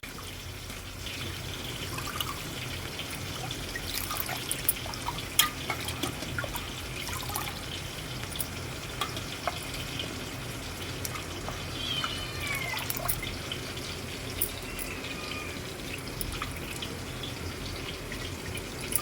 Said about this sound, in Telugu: ఈ గోంగూరని నీటుగా కడిగి వాటర్ అంతా ఇలా తీసేయాలి